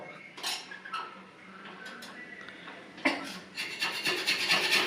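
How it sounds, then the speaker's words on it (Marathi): Harsh metal scraping across a griddle pan in repeated rough strokes, growing louder and busier toward the end, with no talking. "तवाच खरडून काढणार आहे"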